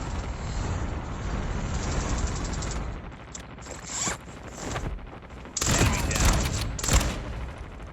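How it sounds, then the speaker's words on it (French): Bursts of automatic gunfire in the Call of Duty video game, a steady crackling rattle throughout with louder, sharper volleys near the end. "J'essaie de leur tirer dessus comme je peux."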